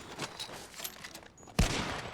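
Gunfire in Red Dead Redemption 2 Online: scattered quiet shots, then one loud close blast near the end, followed by a sustained rumble.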